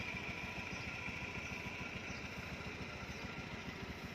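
A Honda Moove scooter engine idles nearby with a steady, rapid putter, holding an even pulse throughout with no talking.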